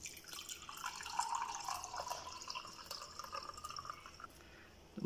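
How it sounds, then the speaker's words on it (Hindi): Lemon water for nimbu pani poured into a glass, a faint close trickle and dripping splash that tapers off toward the end. "नींबू का पानी बनाया था वो इसमें शामिल कर देंगे"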